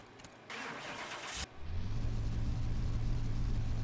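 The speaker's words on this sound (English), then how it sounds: "Got an interesting sound to the engine" A turbocharged Nissan Silvia S15 engine cranks and catches after a burst of broadband noise, then settles into a steady, loud low rumble that holds close and continuous without talk.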